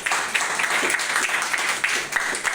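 Audience applause at a Modicare business meeting in a hall: a dense, steady wash of many hands clapping, with sharper individual claps popping out throughout and no talking over it.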